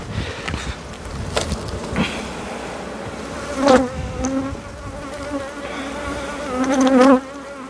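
Honeybees humming around an opened hive during a spring inspection, a loud, dense, continuous buzz close by with individual bees swelling louder as they pass near.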